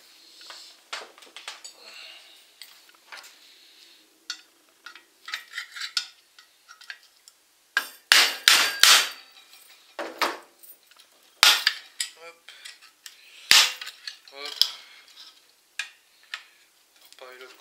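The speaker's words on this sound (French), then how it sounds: "Bon, à l'ancienne, marteau burin." Hammer and chisel striking metal to recover magnets, a series of sharp metallic clinks and louder ringing blows spaced irregularly, close and loud, with some talk between strikes.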